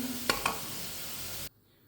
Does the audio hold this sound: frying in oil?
yes